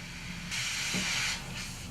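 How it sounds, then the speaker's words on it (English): A spray rig pump recirculates Tnemec Aerolon Series 971 coating back into the hopper, producing a steady close hiss that swells into a louder rushing burst midway before easing off. "I'll go ahead and recirculate this back into the hopper"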